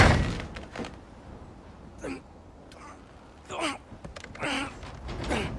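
A frozen door in God of War Ragnarök groans and creaks in several drawn-out strains with thunks between them, fairly close, as voices talk over parts of it.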